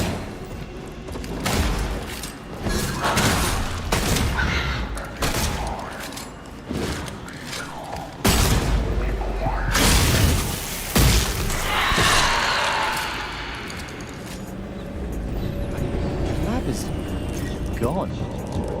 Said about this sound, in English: Some kind of psychic explosion?